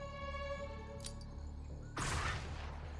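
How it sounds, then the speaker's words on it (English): A flashbang grenade goes off in the video game Xenonauts 2, a sudden loud burst of crackling noise that cuts in partway through and stays harsh over a steady background hum and tones. "Flashbang out."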